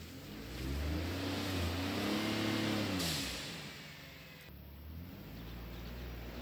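A car engine labors and revs while climbing a steep road in two-wheel drive, a loud low drone rising and falling with a brief break midway before the steady engine note resumes.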